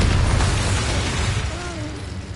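The Bombarda spell goes off in Hogwarts Legacy as a heavy, rumbling explosion with a deep boom that spreads into a broad roar, loud and sustained across the moment, while a voice calls out over it.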